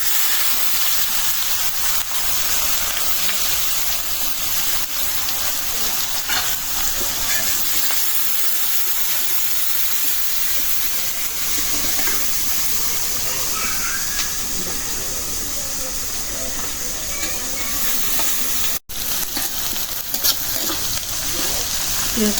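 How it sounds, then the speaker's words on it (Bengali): Onions added to hot oil already used to fry fresh fish, giving a loud, dense, continuous hissing sizzle heard close up, steady for the whole stretch with only faint occasional stirring, no voices. "এই মাছ ভাজা তেলে পেঁয়াজ দিয়ে দিলাম"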